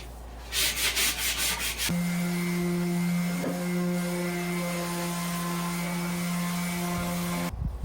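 Rapid rhythmic strokes of hand sanding on wood, a short burst, then a steady electric hum drones on underneath.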